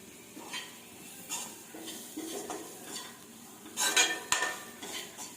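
A spoon stirs spiced potato masala in a pan over low heat, giving soft repeated scrapes and clinks against the metal with a faint sizzle underneath, a louder clatter near the end.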